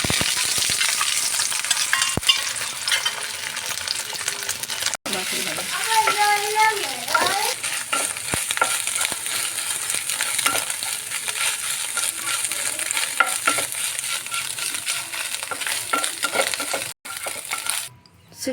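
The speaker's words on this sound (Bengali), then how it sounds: "আবারও কড়াইতে একটু তেল দিয়ে দিয়েছি। এবার ডিমটা কাঁচা লঙ্কা" Eggs and green chili sizzle and fry in oil in a wok, with continuous loud crackling and frequent scraping stirs, and a voice talking briefly partway through.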